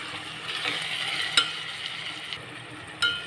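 An egg and raw prawn curry with masala is stirred in a pan, a soft sizzle running throughout with a few sharp scrapes and knocks of the spoon, close and quiet, with no voices.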